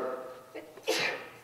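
A single sneeze in a quiet room during a Shabbat service, a brief sharp burst following a faint breathy intake, close and fairly loud, alone without talk.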